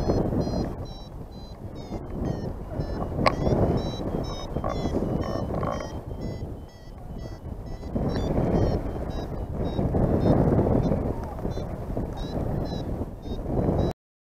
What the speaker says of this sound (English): No, it's windy.